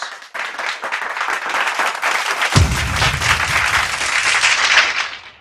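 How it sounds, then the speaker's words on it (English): Crowd at a political party public meeting during a federal election campaign in Nevis claps hard, applause building from scattered claps into a full sustained roar with low rumble joining midway. "Why that clap there so hard?"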